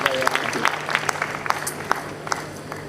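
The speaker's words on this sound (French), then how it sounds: "vous pouvez applaudir" Audience applause at an Audi press conference at the Paris Motor Show, a moderate spread of clapping with scattered sharp claps and faint voices underneath.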